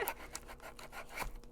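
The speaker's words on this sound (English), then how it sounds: "I'm going to use my handy dandy scissors again to open it up and hopefully not hit the figure." Scissors snip and rasp through plastic packaging around a One Piece figure, a quick run of short, close cutting and rubbing sounds.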